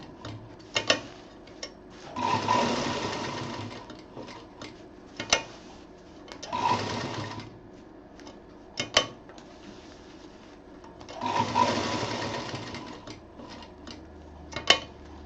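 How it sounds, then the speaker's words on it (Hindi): A sewing machine stitches a homemade picnic bag in three short runs of whirring, with ticking and handling clicks between them in a quiet room. "इसको 2-3 बार अच्छी तरह मजबूती से सिल देना है ताकि ये निकले नहीं।"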